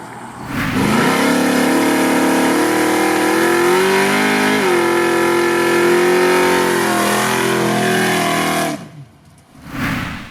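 Chevy S10 pickup with a 400 small-block V8 doing a line-lock burnout, engine held at loud high revs for about eight seconds with pitch shifting and tire squeal, then dropping off and briefly revving again, close and alone.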